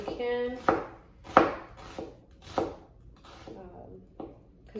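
A knife chops an onion on a cutting board in about seven firm, evenly spaced strokes, close and distinct, with a brief bit of talking at the start.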